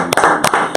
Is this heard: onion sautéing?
no